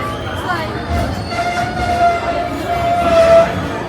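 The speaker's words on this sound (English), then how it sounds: "This was our train." A steam train rumbles at Disneyland's Main Street station platform with a broad, steady roar, a faint high whine, and murmuring voices in the background.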